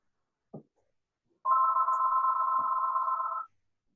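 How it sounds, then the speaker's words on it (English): A single electronic phone ring, a steady bright tone lasting about two seconds, preceded and followed by faint brief clicks in an otherwise quiet room. "your phone's ringing"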